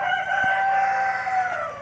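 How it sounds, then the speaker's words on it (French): A Goliath breed rooster among laying hens crows one long, drawn-out cock-a-doodle-doo close by, the call holding steady before trailing off, with faint farmyard background. "ça c'est les poulets déjà en ponte"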